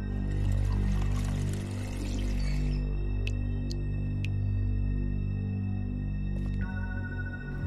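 Water pouring in a kitchen in The Wolf Among Us game, a steady splashing stream for the first few seconds that then stops, leaving a low ambient hum with a few brief high ticks.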